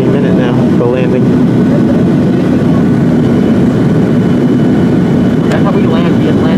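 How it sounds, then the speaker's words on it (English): Southwest Airlines airplane coming in to land at Cancun, Mexico: a loud, steady low engine roar fills the cabin throughout, with people talking over it. "we're just about to land into Cancun, Mexico on a Southwest Airlines airplane"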